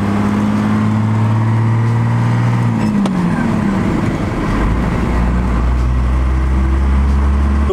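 A first-generation Cummins diesel truck drives off, its low engine drone holding steady then shifting pitch as it pulls away, loud and close with no talk.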